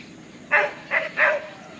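Dogs bark at peacocks outdoors on a Puerto Rico property, with three or four short barks in quick succession at moderate distance over a low background hiss and no talk.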